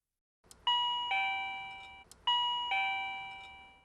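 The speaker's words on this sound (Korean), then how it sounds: "옆집의 초인종 소리 등" A neighbor's doorbell chimes twice in succession, each a clear two-tone ding-dong that rings out and decays, close by with no talking.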